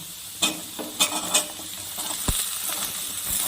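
Ridge gourd pieces tossed into a pan with already fried potatoes for jhinge aloo posto, a light sizzle under a few sharp clinks and scrapes of a spatula against the pan, close by.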